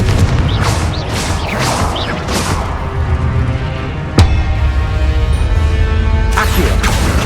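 Blasting spell explosions from the Hogwarts Legacy video game, several booming bursts early on, a sharp crack near the middle, and another loud blast at the end over continuous game rumble and music.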